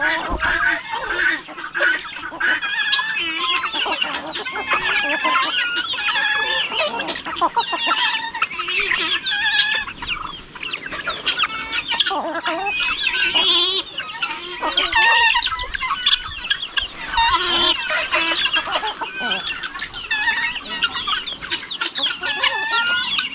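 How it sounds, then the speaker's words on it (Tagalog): Chickens and a rooster on a Filipino backyard farm, with steady clucking and crowing throughout, several birds calling close by and overlapping, no talk. "Yung isang tandang na din doon."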